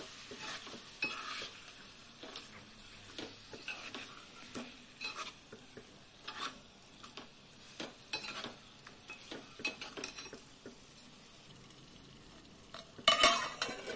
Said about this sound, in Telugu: ఇలా ఫ్రై అయిన తర్వాత ఇందులో తగినంత కారం వేసుకోవాలి. వేసి కలుపుకోవాలి.